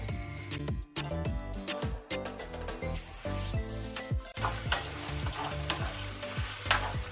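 Minced meat and green peppers frying in a pan, a loud close sizzle broken by repeated scraping strokes of a spatula stirring against the pan, busy and irregular, no voices.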